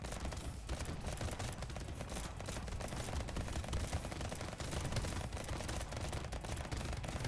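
Rapid, dense bursts of weapon fire from a rocket launcher in the game Brotato form a continuous crackling barrage of overlapping explosive pops, steady and quiet, with no voices.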